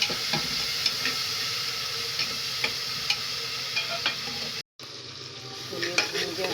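Onion, tomato and green chili masala fries in a pan with a constant loud sizzle, while a spoon stirs and scrapes in irregular clicks; the sound cuts out for an instant near the end before the sizzling resumes.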